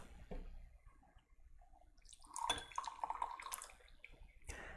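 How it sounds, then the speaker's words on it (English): Water poured over oolong tea leaves in a small gaiwan to rinse them, a soft splashing trickle building midway and lasting a couple of seconds, close and fairly quiet. "as with most of our oolongs, we do a little rinse to start with"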